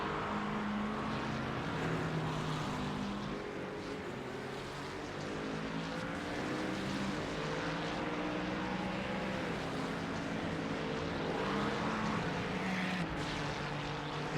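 Racing cars, McLaren and Ferrari, at Silverstone in a video game, a continuous layered engine drone with pitches rising and falling as several cars pass, loud and steady throughout.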